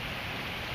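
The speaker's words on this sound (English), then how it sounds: "the water, and it's just raining" Heavy rain pours steadily over a flooded park in Mesa, Arizona, a dense, even hiss of falling water with no pauses, close and fairly loud.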